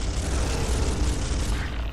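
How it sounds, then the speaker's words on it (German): A gunshot in the Space Hulk video game, a loud, dense, sustained boom filling the whole clip with no voices. "Der erste Schuss hat getroffen."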